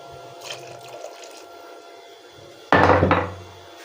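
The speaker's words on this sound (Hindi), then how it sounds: "लेकिन मैं ज़रा जल्दी वैसे गर्म पानी डालूँगी" Hot water is poured into a cooking pot of almond qorma, a sudden splashing gush that starts after a quiet stretch of faint kitchen clatter and lasts about a second before tapering off.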